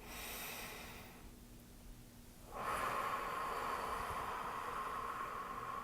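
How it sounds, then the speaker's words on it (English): Deep belly inhale during a guided breathing exercise: a quiet pause, then from about halfway a long, steady airy rush of breath that holds on to the end, close and alone with no talk. "on this next inhale, I would like you to expand your belly"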